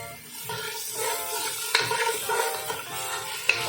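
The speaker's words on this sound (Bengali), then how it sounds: "আলুটা কিন্তু একটু ভাজা করে নিচ্ছি এখানে একটু লবণ একটু হলুদ দিয়ে দেবো" Potatoes fry in a pan for chow mein, seasoned with salt and turmeric, giving a steady close sizzle broken by stirring scrapes and a couple of sharp utensil clinks against the pan.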